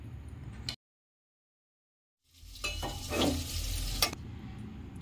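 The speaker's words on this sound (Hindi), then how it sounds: "इसे हम लो टू मीडियम फ्लेम पर ढक ढक कर तब तक भुनेंगे जब तक कि हमारा परवल सॉफ्ट ना हो जाए" Pointed gourd (parwal) frying in a pan over a low to medium flame and being stirred, with a soft steady sizzle and scraping stirs after a short silent gap, heard close with no talking.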